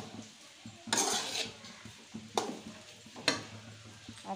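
Leftover fried rice stirred in a pan, a utensil scraping the metal in a few sharp strokes over a soft background sizzle, close and moderately quiet.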